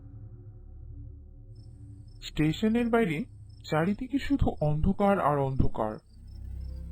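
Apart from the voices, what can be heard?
crickets chirping at night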